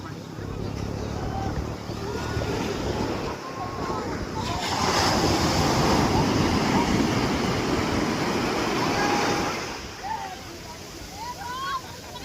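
Sea waves on Puri beach, a continuous roar of surf that swells louder midway before easing, mixed with wind buffeting the microphone and people talking and calling in the background.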